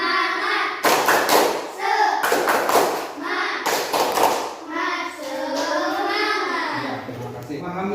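A classroom group of children does a 'tepuk semangat' spirit clap, sharp bursts of hand claps in a patterned rhythm mixed with their loud chanting voices, close and lively.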